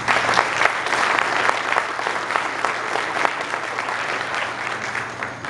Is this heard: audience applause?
yes